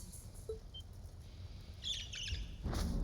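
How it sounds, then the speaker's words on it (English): A bird chirps a few times in the Trails of Cold Steel II video game, with short high tweets over a low background hum. "This fucking bird again."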